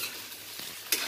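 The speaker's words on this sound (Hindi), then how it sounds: "इसमें अभी शिमला मिर्च और मूली को फ्राई करेंगे 5 मिनट" Capsicum and radish frying in oil over a medium flame: a faint, even sizzle with a couple of soft scrapes, the last one a little sharper, very short and close.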